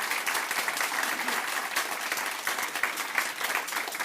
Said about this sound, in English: They need a massive round of applause because they've been absolutely brilliant